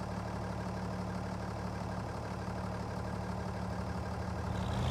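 Tractor engine in the Farming Simulator 25 video game, a steady low droning hum with a constant pitch, running continuously and evenly throughout with no voices.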